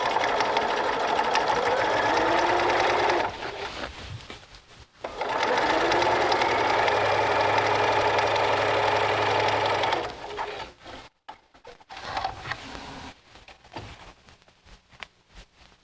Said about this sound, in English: Remove the quilt from the machine, align the raw edges, and start sewing again at the 1/4 inch mark.